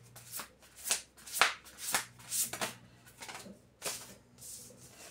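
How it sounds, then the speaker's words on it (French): Large oracle cards being shuffled by hand, a series of soft riffling bursts in an uneven rhythm, close and quiet with no talking. "Elles sont tellement grandes, ces cartes, qu'elles sont pas évidentes à brasser."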